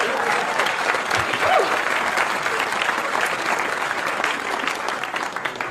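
A comedy club audience at a live stand-up show applauds steadily, a dense, even wash of clapping that fills the room for several seconds without breaks.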